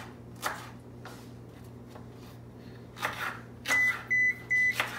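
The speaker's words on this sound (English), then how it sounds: "that beep you just heard was my oven" A kitchen oven signals it has finished preheating to 425 degrees with three short, clear electronic beeps in quick succession, loud and close, following quieter knife-chopping sounds of green peppers on a cutting board.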